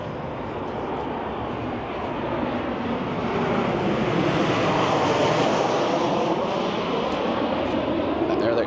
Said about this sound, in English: And there are the airplanes landing.